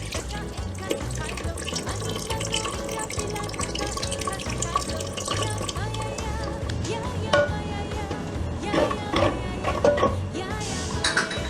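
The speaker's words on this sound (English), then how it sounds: "Now in the same mixie jar, I have taken some water to clean it up. And I'm pouring in that water into the paste." Water is poured from a mixie jar into ground coconut paste while making Goan kingfish curry, a continuous splashing trickle with faint clinks of the jar, heard up close in a kitchen.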